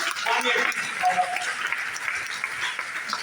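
Seminar audience applauding in a hall in Lucknow, a dense wash of clapping that swells and eases over a few seconds with voices mixed in.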